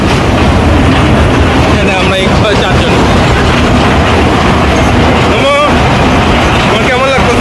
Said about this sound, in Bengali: তো আমাদের ট্রেন স্টার্ট করলো স্টেশন থেকে